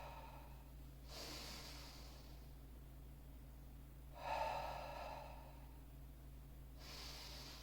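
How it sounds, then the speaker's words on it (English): Deep breaths drawn during a couch stretch for the quads and hips, three soft breathy rushes spaced a few seconds apart, close and quiet over a low steady hum. "we can just kind of take a series of deep breaths"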